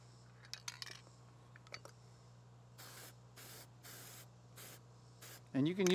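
An aerosol can sprays sealant onto a Cub Cadet riding lawn mower engine at the head gasket, in a series of short, steady hissing bursts, ending with a louder knock of handling.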